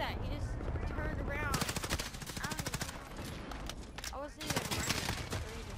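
Dense automatic gunfire in the video game Call of Duty Modern Warfare, with continuous rapid bursts and shots layered over music and game effects, and a voice talking over it.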